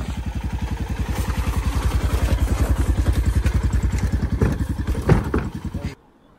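A trawler boat's engine runs on a river with a loud, rapid, regular thumping, steady for most of the clip before it cuts off near the end, while a voice talks faintly beneath it.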